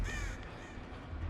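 Crows caw in a video game, a few harsh calls at the very start, fairly close and loud, then trailing off into a dull background hum.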